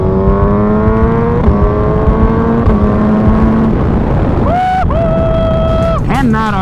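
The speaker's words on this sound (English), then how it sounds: "Also, this thing has a Brox exhaust." A Suzuki Hayabusa motorcycle fitted with a Brox exhaust revs hard and accelerates through the gears, its engine pitch climbing and dropping with each shift under loud wind rush.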